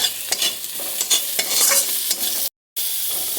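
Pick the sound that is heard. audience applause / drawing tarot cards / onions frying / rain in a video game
onions frying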